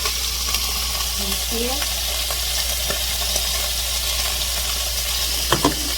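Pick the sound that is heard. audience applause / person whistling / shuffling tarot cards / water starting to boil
water starting to boil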